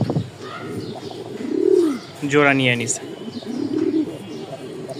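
A large Rajshahi giant pamuja pigeon in breeding condition coos up close, with several deep rolling coos spread across the stretch, and someone talks over it briefly.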